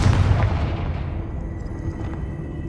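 A Confringo explosive spell blast from the Hogwarts Legacy video game: one loud booming burst at the start that decays into a rumbling, fading tail, with no speech over it.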